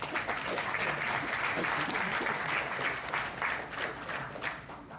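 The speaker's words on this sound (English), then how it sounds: "Please welcome him with a huge round of applause." A huge round of audience applause at a pharmaceutical and packaging expo in Visakhapatnam, dense, loud and sustained clapping that carries steadily for the full five seconds with faint crowd murmur mixed in.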